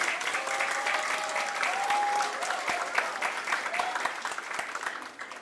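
Applause at a Liberty Korea Party Busan chapter gathering for committee chairs and lawmakers, a sustained roar of many hands from a large crowd, steady and even, thinning a little near the end.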